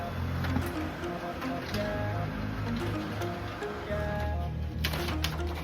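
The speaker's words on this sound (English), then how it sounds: "just sent something to print" A Brother MFC-7860DW laser printer prints a page, a continuous mechanical whirr and rumble with a faint ticking rhythm, close by and with no talking.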